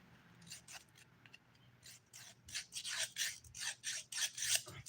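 A nail file rasps against a fingernail during a manicure, with quiet scattered strokes at first, then a quick run of rhythmic, close scratchy filing strokes that grow louder toward the end.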